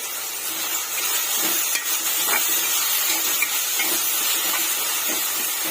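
Tomatoes fry in a pan with a little salt while mango-flavoured drumstick and egg curry is prepared, giving a steady close hiss and sizzle with faint crackles throughout.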